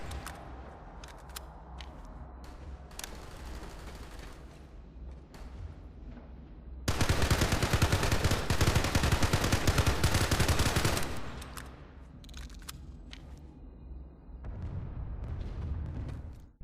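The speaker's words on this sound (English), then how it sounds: "it's the same thing here with the T1 Cycler S while using burst fire mode versus automatic fire" T1 Cycler S rifle fire in PlanetSide 2, short bursts of shots in the opening seconds followed by a long loud stretch of continuous automatic fire, then further bursts, with no talking.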